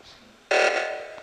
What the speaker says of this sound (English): Kako sam aktivirao ovaj alarm,